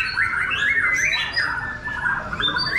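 A young white-rumped shama sings a loud, close, continuous run of varied whistles and warbling phrases, sliding up and down in pitch without pause, at a songbird contest.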